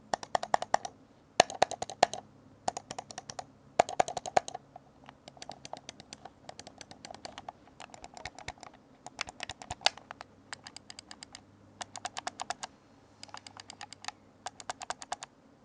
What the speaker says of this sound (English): I'll go ahead and do a click test into my microphone now so you guys can see more or less what they sound like